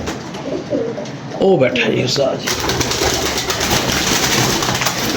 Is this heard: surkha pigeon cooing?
yes